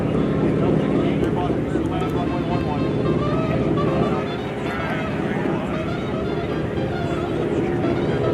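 A warbird such as a Stearman, L-16 Grasshopper or SNJ Texan taxiing back to parking at an air show, its steady propeller-engine drone continuous and fairly loud, with crowd chatter and announcer talk mixed underneath throughout.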